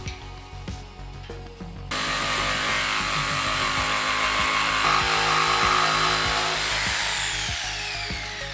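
A power saw cuts a radius into the corners of milled wooden panels for a split-level coffee table, starting abruptly and holding a loud, steady whine with ticking vibration throughout, close and without voices.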